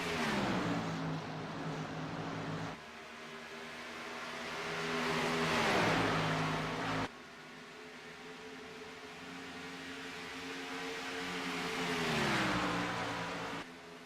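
Race cars accelerate through a turn on the track, with engines whining and droning loudly in repeated sweeping passes that rise and fall in pitch as the cars come by.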